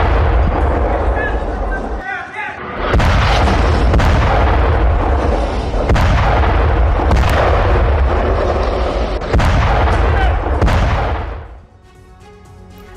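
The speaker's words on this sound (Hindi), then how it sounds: "राजधानी बेरूत में भीषण हमला हुआ, देखते ही देखते तबाह हो गई पूरी बिल्डिंग।" An Israeli airstrike destroys a building in Beirut, heard as a series of heavy booming blasts and rumbles, several in a row, loud and dense, then fading into a quieter tail.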